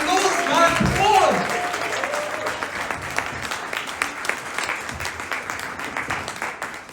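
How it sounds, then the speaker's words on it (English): Applause from a screening audience at a mental health short film event swells early and then thins into scattered claps. A voice talks briefly over the start. "Give her a round of applause, man."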